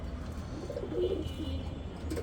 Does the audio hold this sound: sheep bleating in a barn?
no